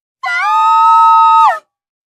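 A single loud, sustained high-pitched scream of about a second and a half, steady then breaking off sharply, from two people in a Hindi animated horror story at the sight of a witch.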